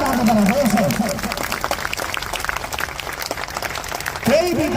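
Audience clapping for their parents at a school event led by a grand master at VIMS, a dense burst of applause between stretches of someone speaking loudly.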